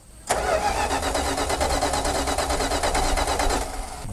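A Dodge Power Wagon that has sat unused for 16 years cranks with a rapid, rhythmic starter churn, loud and close, continuing for about three seconds before winding down.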